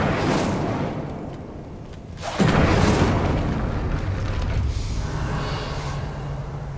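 An Incendio fire spell in Hogwarts Legacy bursts with a loud whooshing blast that rises suddenly and then roars on as a sustained fiery rumble.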